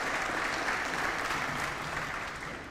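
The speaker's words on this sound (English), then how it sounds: "Let's give them a round of applause for what they do." Audience applause fills a police graduation ceremony, a dense, steady clapping from a large crowd that holds loud throughout and eases slightly toward the end.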